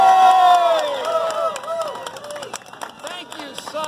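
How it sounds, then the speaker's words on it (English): Crowd cheering and applause greet the president of Dick's Drive-In Restaurant at the opening of a new Kent location. Loud whoops and shouts dominate at first, then ease into clapping and scattered voices. "a huge round of applause, the president of Dick's Drive-In Restaurant"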